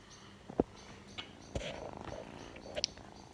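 A small kitten purrs softly and continuously up close, broken by a few faint clicks and knocks in a quiet indoor space.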